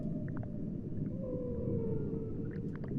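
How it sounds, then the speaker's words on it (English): Whale calls drift in as soft, moaning tones and short squeaky chirps over a low, steady underwater rumble, faint and sparse, with no talking. "So I decided I want to add a little bit of whale sounds."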